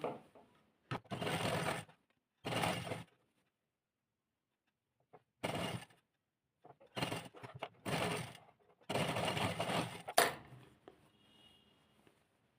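A sewing machine stitches along a neck strip of a suit in several short, whirring runs separated by pauses, close and clear, with faint handling sounds in between.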